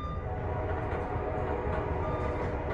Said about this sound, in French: le klaxon de notre P42 retentit de quelques voitures plus loin